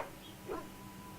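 In the fantasy video game Dragon Age: Origins, a dog gives a faint, brief whimper and yip. The sound rises once over a quiet, steady game background.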